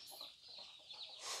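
Chickens clucking near a farmyard feeding spot, a run of soft, rapid clucks and chatter, fairly faint and close, with no one talking over them.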